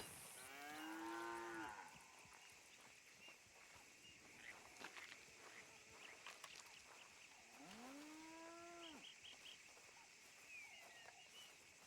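Cow mooing inside the WildRP video game, two long drawn-out moos with rising and falling harmonics, one at the start and one later, over a quiet outdoor ambience with faint bird calls.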